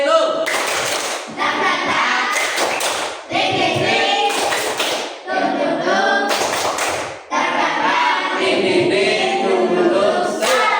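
Classroom students perform a rhythmic 'tepuk semangat' clapping chant, with bursts of fast, loud hand claps and voices chanting along, separated by short pauses.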